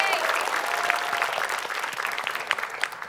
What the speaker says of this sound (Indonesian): Boleh beri tepuk tangan untuk tim A.